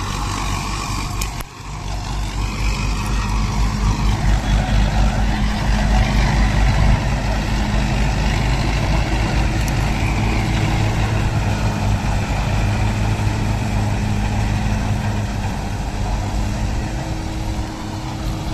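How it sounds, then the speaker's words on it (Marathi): A tractor engine running on a dairy farm, pulling a straw-collecting machine that picks up waste material, a loud, steady low rumbling drone that continues throughout after a brief dip near the start. "हे मित्रांनो, हे ट्रॅक्टर आहे."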